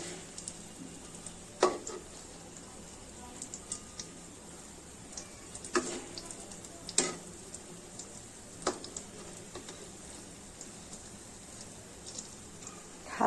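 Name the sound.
badali leaf kebabs frying in a pan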